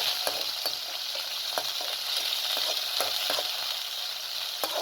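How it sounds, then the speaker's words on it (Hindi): Chicken frying with garlic in a couple of spoons of oil in a pan over medium heat: a steady, dense sizzle with scattered crackles and pops, close up and with no talking. "जैसे लहसुन लाइट ब्राउन सा होगा इसके अंदर चिकन को डालकर फ्राई करूँगी"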